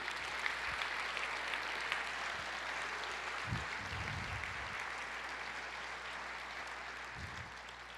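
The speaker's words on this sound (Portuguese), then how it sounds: "Você pode aplaudir, querido?" A church congregation applauds, a steady, fairly quiet wash of clapping from many hands that carries on evenly, with a few low thumps underneath.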